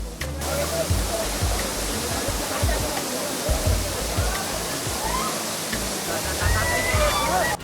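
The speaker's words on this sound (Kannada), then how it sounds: "ಇಂಥ ಮನಮೋಹಕ ಜಲಪಾತ ಇರೋದು ಎಲ್ಲೋ ಮಲೆನಾಡಿನಲ್ಲಲ್ಲ ಬರ ನಾಡು ಅಂತಾನೆ ಕರೆಸಿಕೊಳ್ಳುವ ಕೊಪ್ಪಳ ಜಿಲ್ಲೆಯಲ್ಲಿ" A waterfall in Koppal district, Karnataka, gives a steady, dense roar of rushing and splashing water that stays loud and continuous throughout, without clear talk.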